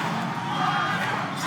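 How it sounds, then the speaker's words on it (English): Crowd at an Injustice 2 fighting game tournament grand final chanting and roaring in a loud, continuous wash of voices filling the venue. "The crowd's chanting White Boy."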